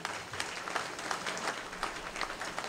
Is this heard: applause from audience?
yes